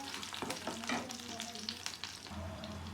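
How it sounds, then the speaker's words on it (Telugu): Garlic sizzles in hot oil in a pan as part of a carrot fry, a steady close crackle with scattered spatters and a few stirring scrapes; no one talks. "వేసుకొని మనం బాగా వేగనివ్వాలండి"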